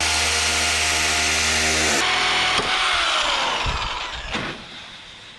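A loud power tool cuts through a metal roofing sheet for a tiny log cabin roof, a harsh sustained whine that shifts pitch partway through, then trails off into rattling as the cut piece settles.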